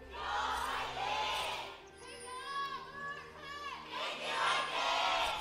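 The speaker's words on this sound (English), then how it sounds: "You can hear the crowd." A packed stadium crowd in Seoul cheers and shouts in rising and falling waves during a League of Legends match, with a caster talking over the roar.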